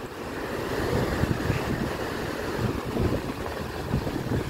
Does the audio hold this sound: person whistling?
no